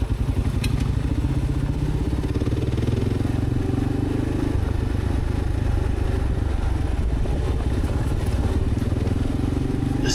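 A motorcycle rides along a rainforest track on Black Mountain Road, its engine droning loud and continuous with rattling clatter and thumps from the rough, washed-out surface.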